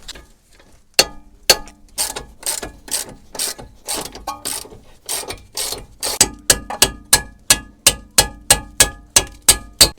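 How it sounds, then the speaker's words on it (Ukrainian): A ratchet wrench loosens a 17 mm nut on the upper suspension arms of an Audi A4 B5, giving loud close repeated clicking strokes that start slowly and then speed into a fast even rhythm. "Тут у нас гайка йде на 17, тому відкручуємо."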